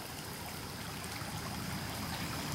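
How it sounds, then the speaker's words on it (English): Creek water flows steadily over rocks below a bank at night, a constant broadband rushing hiss, moderately faint and unbroken, with no voices. "I'm up on the, you know, the banks of the creek here"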